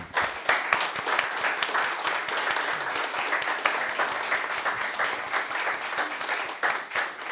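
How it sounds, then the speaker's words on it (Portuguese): An audience at a public health-accounts hearing applauds health workers with steady, moderately loud clapping that lasts the whole stretch. It sounds like a roomful of people, with a few individual claps standing out. "Queria uma salva de palmas para os funcionários da saúde."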